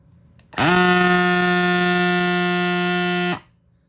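A Cyclami mini electric tire inflator switches on with a loud, harsh, steady buzz, runs for about three seconds, then cuts off abruptly.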